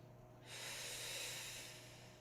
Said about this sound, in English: 4 deep breaths.